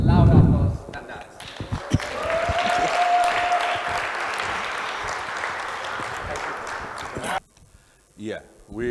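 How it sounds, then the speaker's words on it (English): Audience applause at a justice conference session, a loud steady roar of clapping lasting several seconds that follows a voice and cuts off abruptly, after which speech resumes. "deserves a loud applause than that"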